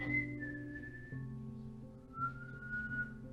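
A clear human whistle in a re-enactment of the Belizean Tata Duende folklore, sustained tones that dip, break and rise again, close and fairly soft with no talking.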